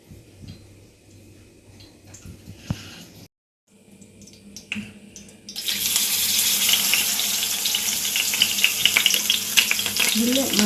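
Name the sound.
frying in oil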